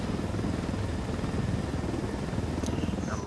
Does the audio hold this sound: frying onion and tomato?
no